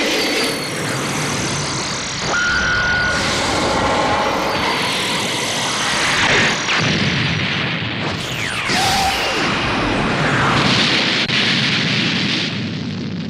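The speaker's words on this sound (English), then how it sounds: "Special beam cannon!" Special Beam Cannon energy blast from the Dragon Ball Xenoverse 2 video game: a loud, sustained roaring beam with crackling bursts and rising whines, continuous for over ten seconds with no speech.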